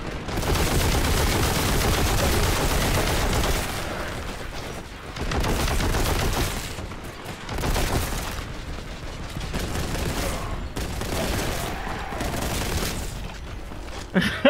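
Machine gun fire from cultist enemies in Warhammer 40,000: Boltgun, dense rapid bursts of gunfire with booms, loud and sustained with brief pauses, mixed with other game noise.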